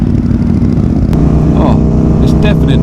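A KTM Duke 790 motorcycle with a decatted, ceramic-coated exhaust running without a baffle drones loud and steady while being ridden, with a dense low rumble and brief higher whines.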